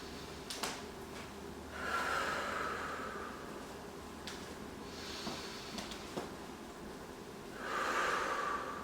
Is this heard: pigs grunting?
no